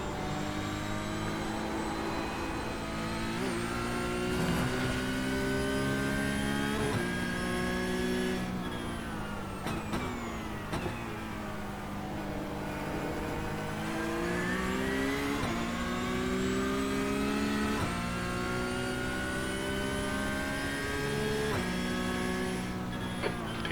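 A Porsche Cup race car in iRacing at Oulton Park screams through the gears, its engine note climbing and dropping sharply with each shift and braking zone, loud and continuous with no talking.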